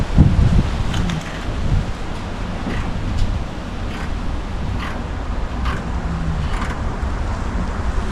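A strong, cold wind blows outdoors on an upper-40s day beside an '88 GMC truck, a loud continuous roar with low buffeting and occasional gusts.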